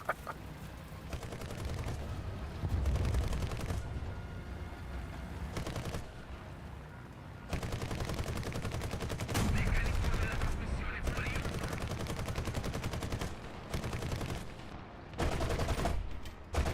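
Gunfire from an M41 tank in War Thunder, long loud bursts of rapid machine-gun fire broken by short pauses, close and dense, with faint talk mixed in.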